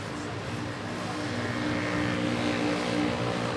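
A Cathay Pacific Boeing 777 lands at Manila airport, heard as a steady, broad jet roar from a distance that builds slightly over a few seconds.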